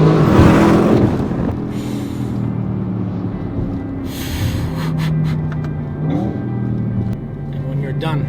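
An Audi RS6 wagon engine roars and revs hard to redline, rising in pitch and then settling, with someone talking over the exhaust note throughout.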